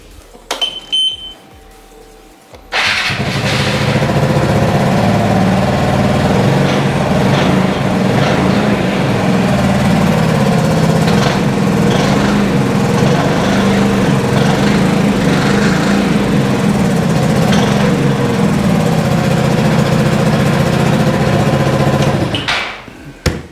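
A Piaggio MP3 Yourban LT 300 scooter with about 7,150 miles fires up after a few quiet clicks and idles steadily and loudly up close for around twenty seconds before shutting off.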